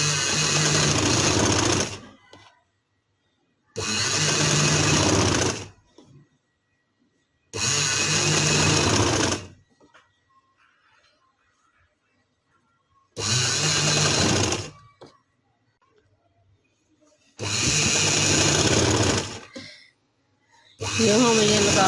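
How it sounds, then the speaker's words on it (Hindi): A sewing machine stitches lace onto a trouser in five or six loud bursts of rapid whirring of about two seconds each, separated by quiet pauses. "अब हम इसे सीधी साइड पे यहाँ रख के सिलाई लगा लेंगे।"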